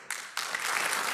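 Crowd applause for a government minister at a Brazilian official event begins abruptly, swells after a brief moment into a thick, steady roar of many clapping hands, and carries on loudly to the end.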